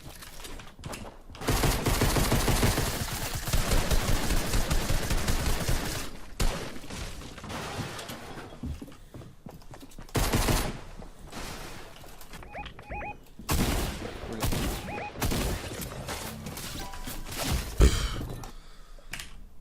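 A new pump shotgun in Fortnite fires in loud, sharp, separate blasts between stretches of busy in-game noise. Many shots are spread across the stretch, with no speech over them.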